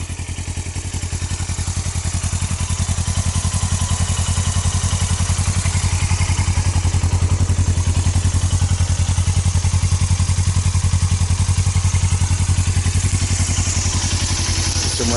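A 2008 Suzuki GS500F motorcycle engine idles just after starting, a loud, close, steady rapid thumping putter with mechanical clatter, running continuously without voices.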